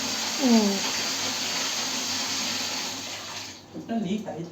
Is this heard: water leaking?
yes